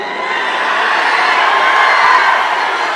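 A large crowd at a political rally roars and shouts continuously, a dense, loud wall of cheering voices sustained throughout.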